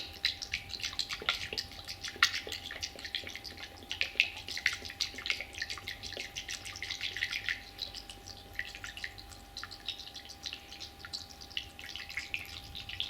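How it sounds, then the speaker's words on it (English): Liquid coolant splashing and dribbling in irregular drips and trickles while being poured into a car without a funnel, fairly close and steady throughout, with no voices. "Thought I could do it without the funnel, but no, it's spilling all over."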